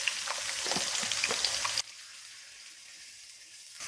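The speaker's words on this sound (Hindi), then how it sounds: "4 अदद हमने प्याज काट लिए हैं इस तरह बारीक बारीक। अब हम इनको फ्राई करेंगे।" Finely chopped onions sizzle in melted ghee, a steady close hiss with crackles and light stirring, then dropping to a quieter, softer sizzle halfway through, no talking.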